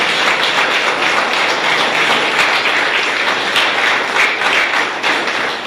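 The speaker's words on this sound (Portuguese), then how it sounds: "Vamos aplaudir o nosso Senhor." A church congregation claps together in steady, dense applause at an Iglesia Internacional da Graça de Deus service in Ouro Preto, Minas Gerais, loud and continuous throughout with no speech over it.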